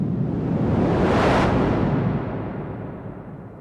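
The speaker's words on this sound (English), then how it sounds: "Peaking noise, where you have a peaking filter." Loud synthesizer noise through a peaking filter whooshes as a resonant peak sweeps up in pitch, then down again, and slowly fades.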